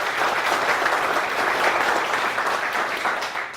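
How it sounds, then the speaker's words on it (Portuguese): An audience at a lecture on cryptocurrency and blockchain gives a round of sustained applause, many hands clapping together at an even level before it begins to fade at the end. "Uma salva de palmas"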